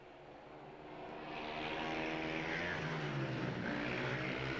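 Speedway motorcycles race a league heat between Hackney Kestrels and Stoke Potters in 1990, heard from the stands as a distant, sustained engine roar that swells louder after the first second and holds steady with shifting pitch as bikes pass.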